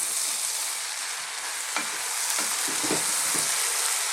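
Vegetable curry masala bubbles in a pan just above a simmer, a steady close hiss and sizzle with a few soft stirring clicks and pops, no voices.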